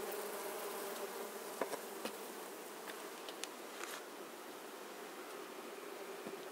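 Honeybees from a small swarm caught in a trap buzz steadily in a soft, continuous hum, with a few brief nearer passes of individual bees rising above the drone.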